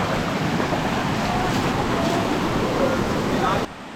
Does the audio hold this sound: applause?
no